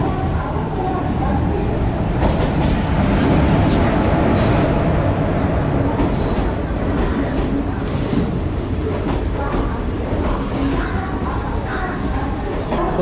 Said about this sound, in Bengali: তো ট্রেন আমাদের চলে এসছে।